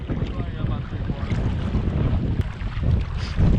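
Heavy wind gusts across a lake during a kayak trip, a loud continuous roar of wind buffeting the microphone with sloshing water beneath, steady throughout with no voices.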